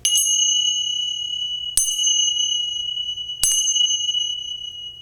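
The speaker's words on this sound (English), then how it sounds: "We close our practice the way we began, with the sound of 3 chimes." Three clear, ringing chime strikes spaced evenly about two seconds apart, each tone sustaining and slowly fading into quiet.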